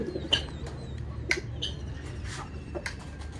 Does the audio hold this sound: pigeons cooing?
yes